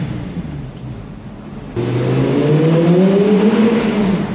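An Audi R8 V10 Spyder's Lamborghini V10 swells suddenly louder at mid-clip, then holds a steady, rising engine note from close by, with no talk.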